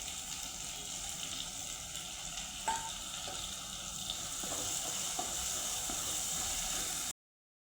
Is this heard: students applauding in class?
no